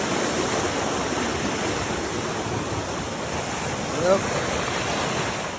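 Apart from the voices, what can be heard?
fast-flowing river after heavy rain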